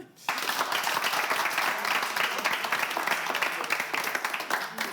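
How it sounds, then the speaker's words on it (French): A television game show studio audience breaks into sudden, loud applause at the end of a round, a dense, continuous clapping that starts abruptly and holds steady. "On l'applaudit"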